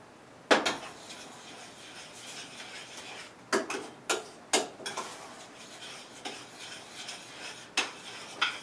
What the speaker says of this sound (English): It's really boiling, so we need to make sure we keep stirring.